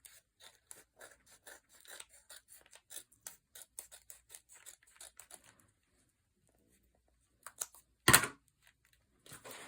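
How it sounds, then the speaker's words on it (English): Scissors trimming excess paper off a junk journal page: a quiet series of short snips and paper rustles, followed after a pause by a louder crinkling burst of paper handling. "I'm going to cut a little bit of this off because it went over."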